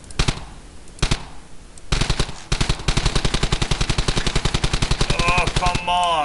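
Rapid automatic gunfire in the World War II shooter Brothers in Arms: Hell's Highway, loud and close, with a few separate shots leading into a long sustained burst of evenly spaced cracks, with a whistling sound near the end.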